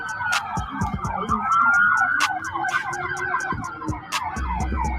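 Several police car sirens wail together at Bayside, Miami, with rising and falling tones layered over one another and sharp horn blasts cutting through. Voices murmur faintly beneath the steady siren chorus.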